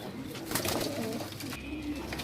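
Golden Teddy pigeons coo softly in low, repeated throaty murmurs, close by, with a faint background hiss.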